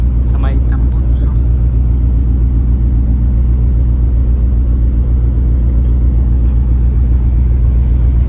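A ship's engine exhaust drones in a loud, constant low rumble with steady throbbing pulses. Brief higher squeaks sound near the start.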